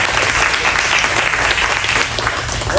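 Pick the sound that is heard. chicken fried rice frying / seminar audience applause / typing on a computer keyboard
seminar audience applause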